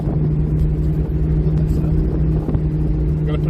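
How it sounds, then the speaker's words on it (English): Steady wind buffets the microphone outdoors beside a 1972 Triumph Stag Mark I Automatic, a loud continuous low rumble throughout. "this wind."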